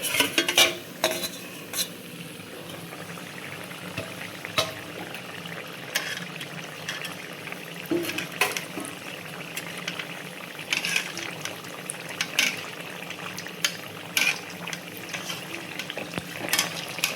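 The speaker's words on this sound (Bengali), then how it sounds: "দেখো এই যে আমি ভেজে এবার একটা একটা করে তুলে নিচ্ছি।" Gokul pithe, traditional Bengali sweets, fry in a pan over low heat with a soft steady sizzle, punctuated by scattered scraping and clinks of a spatula lifting pieces out one by one.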